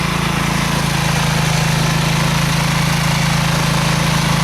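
A Bolens H14 garden tractor fitted with a snowblower runs in an icy yard, its engine a loud, close, steady hum with a strong low tone that never changes pitch.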